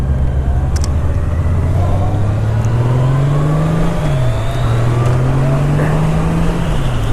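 A motorcycle engine steadily winds up in pitch, shifts, and climbs again on the throttle, a smooth continuous turbine-like whirring rev heard up close over wind noise.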